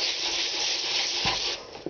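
A sanding pad worked in light circular motions over the fiberglass finish of an R/C model gives a steady, close rasping hiss that runs without a break, with a couple of soft bumps near the end.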